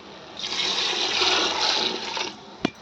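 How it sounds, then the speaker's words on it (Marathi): Cooked lentil water pours and splashes steadily into a pot for about two seconds, close by, ending with a single sharp clink. "आणि आता यामध्ये घालायचं आहे आपल्याला कटाच्या आमटीचं डाळ शिजवलेलं पाणी"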